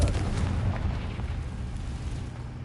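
A Confringo spell blast in the video game Hogwarts Legacy lands as a deep, rumbling explosion that hits hard at the start and then fades into a lingering roar.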